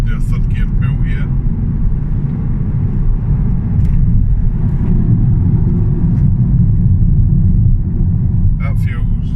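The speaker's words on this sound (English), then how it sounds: "see if we'll do a third gear pull here." A car fitted with a Race Chip RS tuning box pulls hard in third gear, its engine a loud, sustained low rumble from the cabin while a person talks over it.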